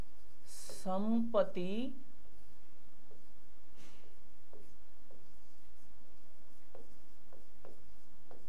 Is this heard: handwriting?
yes